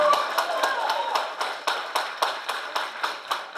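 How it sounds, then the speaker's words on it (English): Scattered clapping at a community board meeting in Queens, with a few hands striking in a fairly regular rhythm around a dozen times and fading to sparse claps, heard in a room alongside faint background murmur. "Hold the applause, please."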